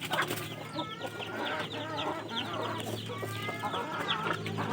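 Chickens cluck and chatter continuously at close range, a dense overlapping flock with no pauses over a steady background.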